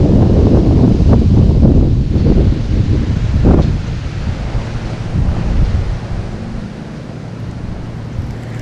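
Strong gusting wind on a lakeshore during bass fishing, loud buffeting rushes against the microphone that ease off and fade into a softer steady blow.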